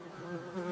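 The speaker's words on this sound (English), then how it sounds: "This is a bee." A bee buzzes steadily and close by, a continuous droning hum with no pauses and no voices.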